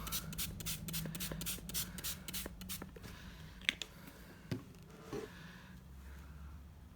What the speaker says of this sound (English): I'm just going to spray that backboard as well.